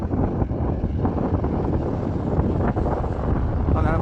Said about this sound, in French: Je sais pas si vous entendez le bruit du vent ou des vagues, c'est assez impressionnant comme son.